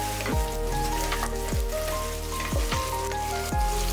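Spice paste for Bengali mutton kosha, made with potatoes, is stir-fried in a pan with a constant close sizzle. A spatula scrapes it about four times in a steady rhythm over a low tonal hum.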